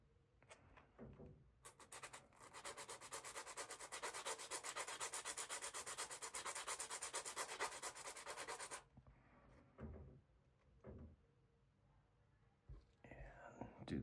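Steady abrasive rubbing of an 800-grit sanding sponge on plastic model kit parts for several seconds, fairly close, followed by short scattered scrapes and soft handling noises.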